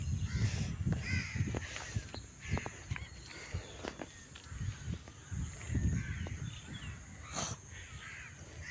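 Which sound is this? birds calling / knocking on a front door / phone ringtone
birds calling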